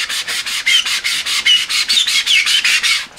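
Rapid, rhythmic scrubbing of a carry-on suitcase's hard shell with a wet magic eraser, about a dozen squeaky back-and-forth rubbing strokes, close and fairly loud.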